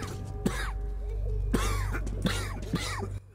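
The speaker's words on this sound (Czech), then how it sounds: "jenom kašle" A character in the video game Metro 2033 Redux coughs hoarsely in several separate bursts, close and fairly loud over a steady low in-game hum.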